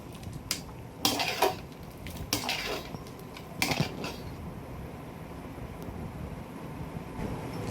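Clanks of a spoon against a pot while duck curry is stirred and the lid is set back on, a few sharp metallic knocks and scrapes in the first four seconds, then a quiet room hum.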